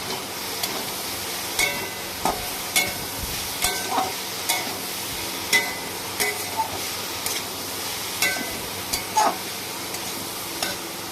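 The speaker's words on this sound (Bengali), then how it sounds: "নেড়ে চেড়ে মিক্স করে দিচ্ছি।" A semolina mixture sizzles in a pan while being stirred, a steady close frying hiss broken by regular scraping clicks of the utensil roughly every half second, with no talking.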